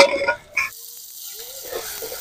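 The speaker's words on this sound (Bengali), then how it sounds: "পেঁয়াজের সাথে চিংড়িটাকে ভালোভাবে আমি কষিয়ে একটা পুর তৈরি করে নেব" Prawns, part ground into paste and part whole, sizzle with onion and coriander powder in a pan while cooking into a filling for green banana kofta. A brief loud burst of frying is followed by a quieter, steady sizzle with occasional stirring.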